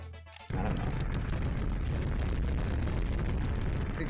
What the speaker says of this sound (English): Explosions look very cool in this game.